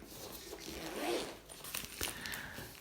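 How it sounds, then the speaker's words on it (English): A zipper is drawn around a waterproof GoPro camera case in a couple of short, close rasping pulls, with a brief pause between strokes. "You have one zip which you zip round"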